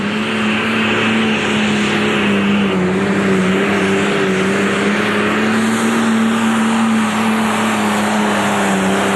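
A pro stock pulling tractor at a 10,000-pound tractor pull at the 1992 Ohio State Fair roars in a loud, steady engine drone that holds its pitch for several seconds.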